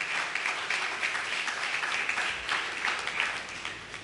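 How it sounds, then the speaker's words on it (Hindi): Congregation applauding during a church sermon, a steady wash of many hands clapping together at moderate level, sustained without a break through the moment and with no one speaking. "तालियां खुदा के जलाल के लिए"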